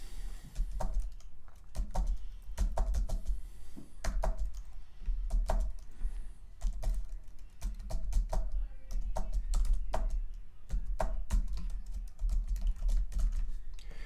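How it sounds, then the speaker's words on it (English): An email address is typed on a computer keyboard in steady, fast runs of close, crisp keystrokes with brief pauses, continuing throughout against a low hum. "hang on with me while I type it out"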